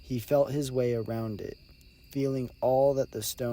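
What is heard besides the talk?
No everyday noise stands out behind the speech.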